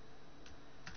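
A few quiet keystrokes on a computer keyboard while entering a web address, two soft clicks spaced apart over a low steady background hum.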